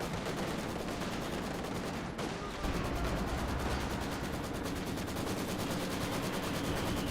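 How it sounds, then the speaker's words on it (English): A rifle flare goes off in a Company of Heroes 2 battle, a sharp pop at about two seconds set against steady crackling small-arms fire that runs through the whole scene. "That was a rifle flare."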